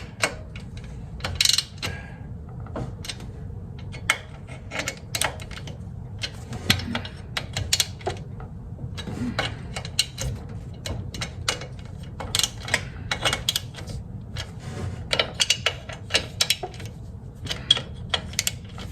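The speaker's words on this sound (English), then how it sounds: "We're just going to snug them all first in the zigzag pattern." A hand ratchet snugs the bolts in a zigzag pattern on a Cub Cadet 12HP engine, making a steady run of quick, sharp mechanical clicks with short pauses in between.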